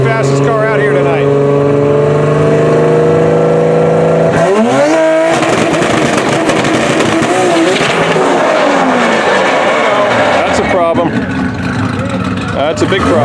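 A nitrous-fed drag race car with a manual transmission on big drag tires launches and accelerates hard down the track, a loud sustained engine roar with rising pitch, crowd voices and talk running underneath.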